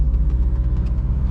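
A turbocharged car engine idling with a low, pulsing rumble and a faint hissing air sound from a bad boost leak on top, steady and close.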